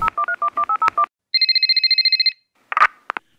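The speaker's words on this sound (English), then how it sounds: "Yeah, let's do that. Let's call up John" Telephone call to a guest: a run of quick touch-tone dialing beeps, then a steady electronic ring tone, followed by a few clicks and crackles as the line connects, loud and close with no talk.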